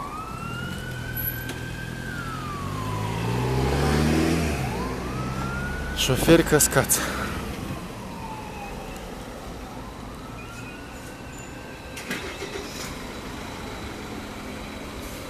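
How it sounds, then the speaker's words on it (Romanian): An ambulance siren wails in long rising and falling sweeps amid city-centre traffic noise at an accident scene on Strada București, with a brief voice and a few sharp knocks partway through. "Iar ambulanța."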